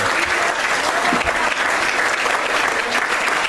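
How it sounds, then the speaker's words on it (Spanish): A church congregation at an anniversary worship service claps loudly and continuously, a thick, close wall of applause with a few faint voices mixed in. "Den un aplauso fuerte al Señor."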